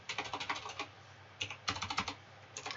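Keys tapped on a computer keyboard to enter a number, heard as a few quick bursts of close, crisp clicks separated by short pauses, with no talking.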